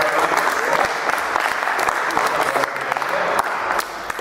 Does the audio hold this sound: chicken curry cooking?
no